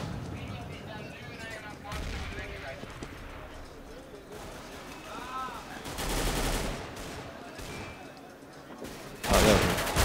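Gunfire in a first-person shooter video game match, scattered shots and short bursts popping at varying distances, with a louder volley near the end, under steady excited commentary.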